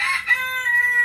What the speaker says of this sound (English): Looks like we got a Birchin Rooster